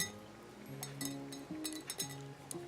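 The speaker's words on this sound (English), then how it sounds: "You want them to be hard enough that it causes a clink when you put it in a dish." Hard, dry marigold seeds dropping into a dish, giving several small, sharp clinks spaced irregularly over a couple of seconds, close and fairly quiet with faint background noise.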